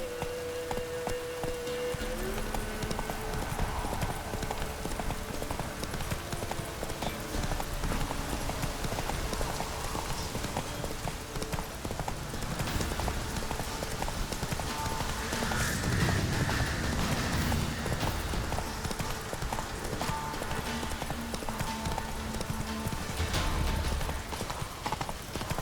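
The horse Roach galloping in the video game The Witcher 3, rapid rhythmic hoofbeats sustained throughout with creaks of tack and a faint whinny.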